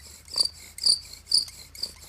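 Four rhythmic scraping squeaks from a survival bow drill repeat evenly, each a short high-pitched rasp of wood rubbing on wood as the bow is worked back and forth.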